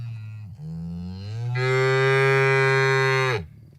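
Another cow lows nearby in one sustained moo of roughly three seconds, starting low, climbing into a strong, bright bellow and then stopping abruptly.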